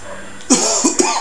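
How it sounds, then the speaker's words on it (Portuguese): Three short coughs from a person in quick succession, the first strongest and the last two closer together, over a faint steady background with no talking. "senão a minha garganta começa a coçar e eu começo a tossir"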